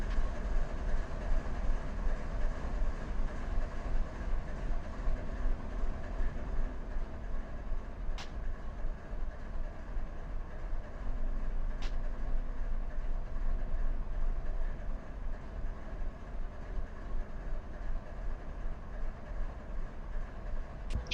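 Steady low rumble of a mostly empty freight train rolling along in the Run 8 train simulator game, continuous and fairly loud, with faint rhythmic rail noise and a few sharp clicks.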